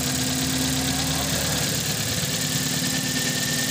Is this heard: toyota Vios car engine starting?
yes